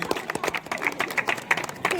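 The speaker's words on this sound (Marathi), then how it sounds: "सत्यजित जोरदार टाळ्या वाजवा" Applause from a crowd at a prize ceremony for the GPL 2026 cricket tournament: a dense, steady patter of many hands clapping that carries on throughout, with a voice faintly mixed in.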